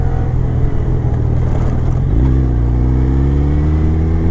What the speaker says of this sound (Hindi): अब यहाँ से थोड़ी सी भगाएंगे बाइक